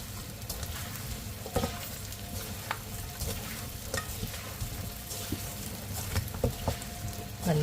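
Fried chicken with tomato sauce and curry leaves sizzles steadily in a pan as it is stirred, with scattered scraping clicks of the utensil over the close, continuous frying hiss.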